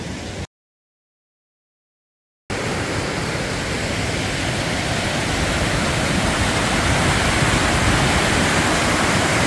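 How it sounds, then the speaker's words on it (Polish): After a short silence, a Norwegian waterfall near Bergen roars in, a dense, steady wash of falling water that stays loud and unbroken. "I patrzcie na ten wodospad."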